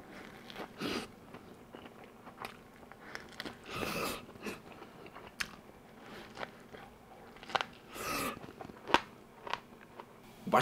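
Close, wet chewing and crunchy bites of a Lotteria bulgogi burger, irregular bursts of mastication with a few sharper crunches, no talking.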